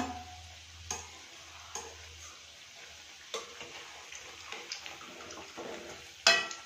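Semolina pakoras fry in hot oil, giving a soft, steady sizzle with scattered light clicks and scraping taps, close and fairly quiet, with no talk.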